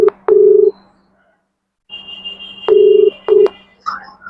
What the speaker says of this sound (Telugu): మరి అతనితో కాల్ మాట్లాడదాం ఫస్ట్